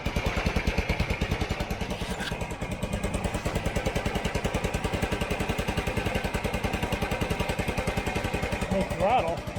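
A Honda Elite 150 scooter engine runs at a steady, close idle right after starting, its rapid firing pulses even and continuous throughout, with a slight rise near the end.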